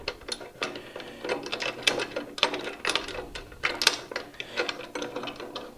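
A bracket is screwed into an Axminster Trade AT260SPT spiral planer thicknesser, producing a rapid series of close ratcheting clicks and tool turns in uneven bursts, with no voices.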